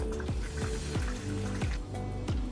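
Water pours into a jar while measuring ingredients for a sourdough starter, a steady liquid fill with repeated low glugging pulses roughly every third of a second, close and moderately loud with no talk.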